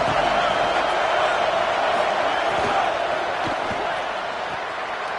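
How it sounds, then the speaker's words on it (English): A large stadium crowd at a Texas A&M versus USC football game keeps up a steady, dense roar, with a commentator talking over it throughout. "This crowd ready to make its presence known."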